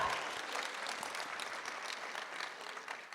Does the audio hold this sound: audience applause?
yes